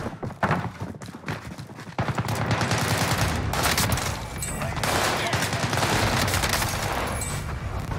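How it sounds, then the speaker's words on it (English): Gunshots in Call of Duty Warzone on Rebirth Island: a few sharp shots early on, then a dense, continuous barrage of rapid fire and clatter mixed with game noise, with no voices over it. "Guy above us shot."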